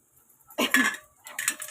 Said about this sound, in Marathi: हे बघा, मी अशी कोथिंबीर कापते.